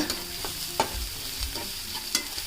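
Curry leaves fry in hot oil in a home kitchen pan while being stirred, giving a soft steady sizzle with a few sharp scraping clicks of the spoon, close and fairly quiet, with no talking.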